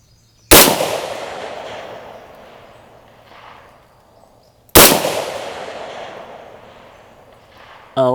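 Two loud, sharp 6.5 Grendel rifle shots about four seconds apart at an outdoor long-range shooting session, each a crisp crack with a long rolling echo decaying over a few seconds, and a third shot just beginning at the end.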